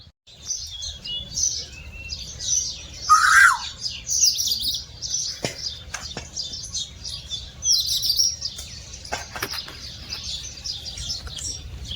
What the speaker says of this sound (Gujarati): કોયલ ફેરથી બોલશે તો તમને અવશ્ય સંભળાવશું એનો અવાજ